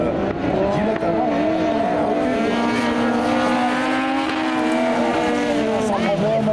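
Racing buggies roaring at a buggy cup race in St Junien, engines droning loud and steady with pitch shifts as they brake, under continuous excited commentary from an announcer.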